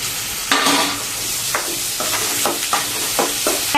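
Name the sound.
onions and curry leaves sautéing in a pan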